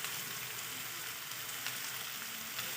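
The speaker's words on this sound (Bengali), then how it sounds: "ভালো করে এটাকে ভেজে নেব কিছুক্ষণ" Spice paste sizzles and fries steadily in a hot pan, a continuous close crackling hiss with small popping bursts and no talk.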